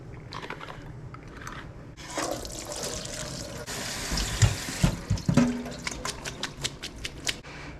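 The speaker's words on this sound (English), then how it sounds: "I am going to open some corn, drain it, and let it dry for a little bit." Liquid pouring from an opened can of corn being drained in a kitchen, a steady splashing flow with a few clinks and knocks as the can is handled.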